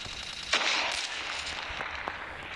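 Call of Duty multiplayer gunfire sounds as a sharp crack followed by a quick burst of shots over a continuous noisy game background, fairly loud and without talking.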